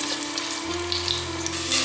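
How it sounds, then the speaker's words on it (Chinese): Ginger slices frying in oil in a stewing pot give a steady, close sizzle with a faint background hum and a brief brighter crackle near the end, with no voices. "锅内放入一些油，把姜片放进来煸香"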